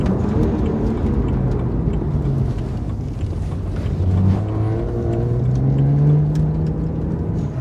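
A BMW 1M rolls through a quick turn and brakes on a road, its engine a steady loud drone with shifting tone and some wind rush, no talking.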